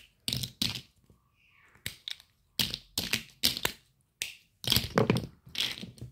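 Plastic Lego bricks being handled and snapped together: a series of sharp clicks and crackly rattling bursts in irregular clusters, close and fairly quiet, with no talking.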